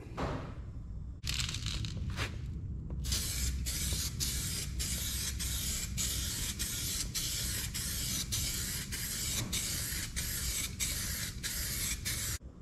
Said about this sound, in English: I think we'll shoot 1 more coat on that